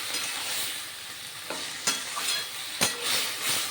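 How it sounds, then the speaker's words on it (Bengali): Boiled pumpkin greens with tomato and lentils being stirred in a pan, a soft hissing sizzle with a few sharper scrapes and clacks of the spatula. "দিয়ে দিলাম টমেটো আর ডাল, সেদ্ধ করা কুমড়োর শাক। এইবার নেড়ে চেড়ে নেব"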